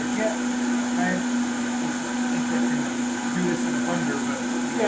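A blender whirs steadily as it purees russet potatoes, a loud constant motor drone that runs without a break throughout, with people talking faintly underneath.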